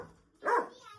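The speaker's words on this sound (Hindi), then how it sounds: "इतना भौंक रही है, ये क्यों भौंकती है?" A single sharp, high bark bursts from an excited pet dog close by after a brief quiet moment, loud and clear against a hushed room.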